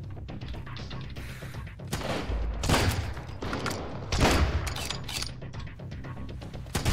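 Shotgun fire in the video game Sunkenland, several loud crashing blasts spaced a second or so apart over continuous in-game background noise.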